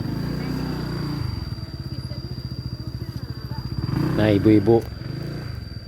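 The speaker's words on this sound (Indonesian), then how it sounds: "ada dua motor yang baru datang ini teman-teman" Motorcycle engines idle and rev close by at a house where mourners are gathering, a steady pulsing putter with a louder burst near the end, while people talk over it.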